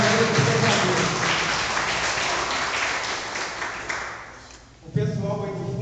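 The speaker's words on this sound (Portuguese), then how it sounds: "Vamos aplaudir essas palavras, meu irmão?" A Catholic congregation claps together during a sermon. The dense applause is strongest at first, then tapers off, and speaking resumes at the end.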